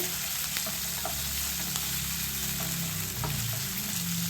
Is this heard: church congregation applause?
no